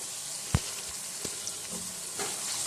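Jalfrezi masala with tomato seeds stirred in a hot pan, a steady sizzle with a few spoon scrapes and knocks against the pan, close and continuous.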